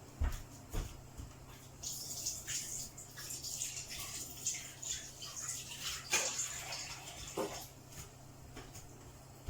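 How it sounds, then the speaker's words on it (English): Elderflowers being washed in water, with faint splashing and dripping and light water movement, plus a few sharper clinks and sloshes, heard close and fairly quiet with no talking. "We're giving it a quick wash."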